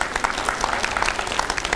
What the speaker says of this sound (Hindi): एक बार जोरदार तालियां टंडन जी के लिए भी